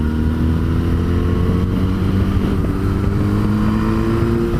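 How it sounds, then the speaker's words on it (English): An inline-four Yamaha FZ6 600 motorcycle drones steadily at a constant engine pitch while being ridden, its exhaust note blended with heavy, continuous wind noise. "I love that little rasp from the exhaust."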